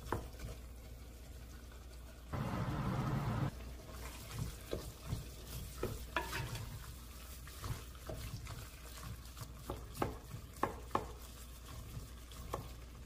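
Mutton keema fried in a pan over a high flame while it is stirred, with a steady sizzle, a brief louder burst of frying, and scattered scraping taps of the spoon against the pan, close and moderately loud.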